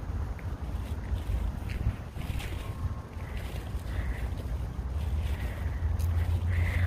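Steady wind rumbles and buffets across the microphone outdoors, with a low continuous roar and scattered faint noises, growing slightly stronger toward the end.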